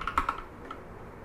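Computer keyboard typing out a command in the Neovim text editor: a quick run of crisp, close key clicks at the start, then quiet room tone.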